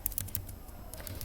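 A few faint, soft keystrokes on a computer keyboard, some at the start and some near the end, over a low background hum.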